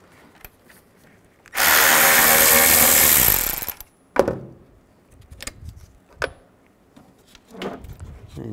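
A power tool with a T30 bit spinning out bumper bolts on a 2003-10 BMW X3, one loud two-second whir followed by clanks and handling knocks of loose parts.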